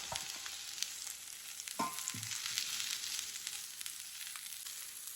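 Chopped onion sizzling steadily in olive oil in a pan, a constant bright frying hiss with a couple of soft clinks partway through, no talk.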